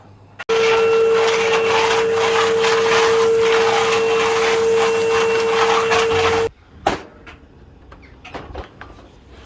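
An old vacuum cleaner drones steadily and loudly with a constant whine for several seconds after starting abruptly, then cuts off, leaving a quiet room with scattered clatter.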